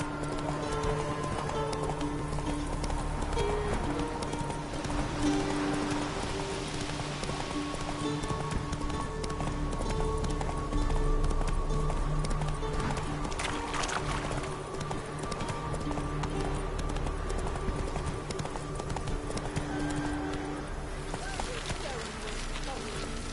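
Hooves of the horse Roach clip-clopping at a fast gallop in The Witcher video game, a steady rhythmic pounding under game music and a speaking voice.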